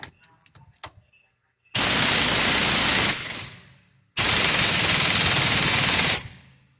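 An impact gun drives a Lisle 40100 hub remover on a stuck hub in two long loud hammering bursts, each about one and a half to two seconds, near and dominant after a few small clicks.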